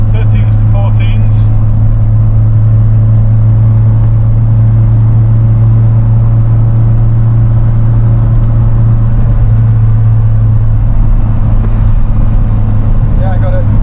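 A Ford Sierra engine pulls under throttle in fourth gear on a road trip, a loud, steady low drone holding evenly throughout, with voices over it.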